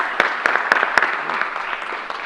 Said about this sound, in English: I'm going to give you an extra round of applause for everything you've done